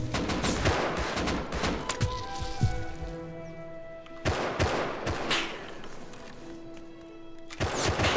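Rapid automatic AK rifle fire in the survival game Rust, loud close bursts of shots that repeat across the span with sharp impacts and ringing tails, while an occasional voice speaks underneath.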